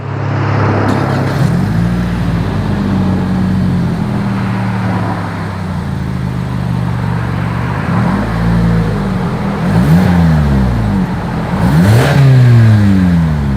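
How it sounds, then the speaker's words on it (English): A Toyota Camry V6 dual exhaust revs loudly up close, the engine rising and dropping several times with a deep, throaty growl; no talking. "As always, here is that exhaust clip."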